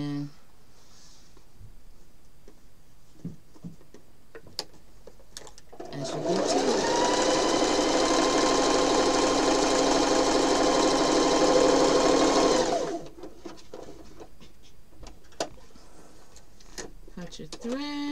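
A sewing machine stitches a quarter-inch seam on an hourglass quilt block in one steady, loud run of about seven seconds, with a quiet room before and after.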